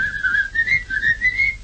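A wavering whistled melody rises and falls in a 1938 Dutch song, close and steady, with no singing over it.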